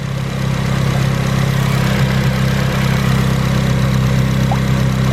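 A Honda K-series engine idles steadily after an IAC valve replacement. The hum is loud, close and even, with a low pulsing drone that continues unbroken and has no voices over it.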